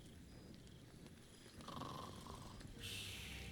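A character snores in the video game Baldur's Gate 3 on Xbox: faint, low, raspy snoring breaths, quiet and steady, with no talking.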